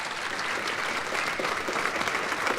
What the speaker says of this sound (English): How about a big round of applause for Ling